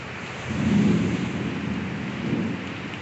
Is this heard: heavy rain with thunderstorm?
yes